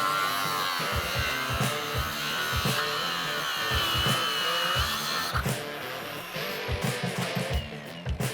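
A forty-year-old opal mining machine with a conveyor belt and feed bin runs loudly up close, a dense mechanical whine and rattle with steady rhythmic knocking throughout, no voices over it.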